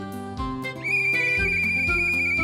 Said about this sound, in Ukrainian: Знову свисток.